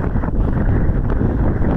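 Strong wind buffets the microphone on an outdoor bike trail in Sioux Falls during a bike ride, a loud, steady low rumble with no talk.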